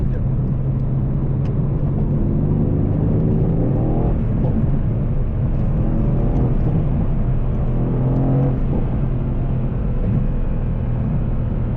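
A Mercedes-AMG C63 S engine drones loudly from inside the cabin as the car slowly builds power, a steady low rumble with gentle rises in pitch while losing traction, and someone speaks occasionally over it.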